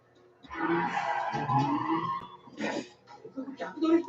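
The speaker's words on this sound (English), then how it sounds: "Continuous reverse drift" Car tires squeal and scrub through a continuous reverse drift on a narrow road at a JDM night meet, with a loud wavering screech that swells and fades over several seconds.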